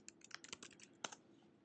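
Typing on a Mac keyboard, a quick run of light key clicks with brief pauses, close and quiet, with no voices.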